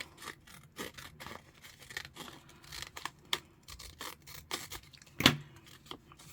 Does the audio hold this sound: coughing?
no